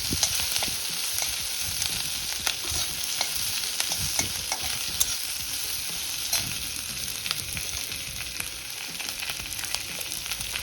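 Onions sizzle and crackle steadily in a hot pan, with occasional scraping stirs, close and continuous with no talking.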